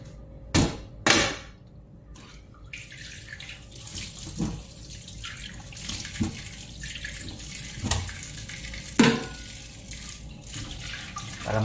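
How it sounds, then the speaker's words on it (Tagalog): Sweet corn cobs are rinsed under a running kitchen tap: a soft continuous water stream with several sharp knocks and thumps as the cobs are handled in the sink, close by and without talking. "So huhugasan muna natin. Huhugasan natin. Kasi para malinis ang ating mais."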